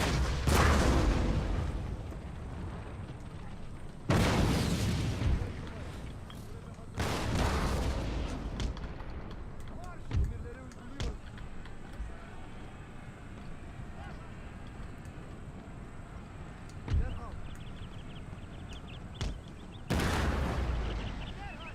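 Cannon and musket fire in the Total War: Empire strategy game, with an Ottoman Empire army, booming in heavy broadband blasts at intervals around several bursts, with a rumbling battle din between them and someone talking over it.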